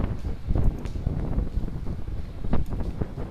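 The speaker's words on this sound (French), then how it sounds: "Il y a du vent, hein." Wind gusts buffet the microphone outdoors in rough, uneven bursts, loud and close, with no voices heard.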